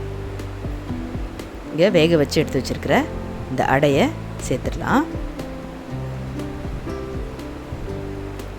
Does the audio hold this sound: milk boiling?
yes